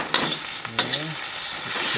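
Fish stirred into hot spice paste in a pan for Indonesian fried rice, a steady close sizzle of frying with scraping stirs and brief clatters.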